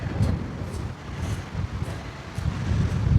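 Strong wind blowing over an open riverside area in the countryside, a steady low roar buffeting the microphone in surging gusts with faint rustling, close and continuous with no talk.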